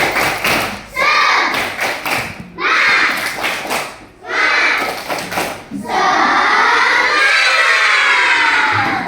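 A classroom or training audience doing a rhythmic spirit clap: bursts of loud, patterned clapping and chanting broken by short pauses, ending in a long sustained cheer of shouting voices.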